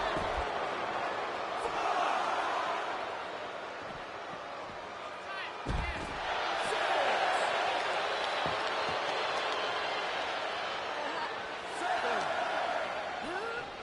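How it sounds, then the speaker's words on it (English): Crowd noise in the WWE 2K23 wrestling video game swells and fades in waves of cheering around a sharp thud, with a commentator talking throughout. "And the crowd in attendance makes their presence known."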